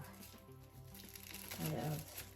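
Plastic crinkling and rustling as a bag is handled, close up, with a voice speaking over part of it.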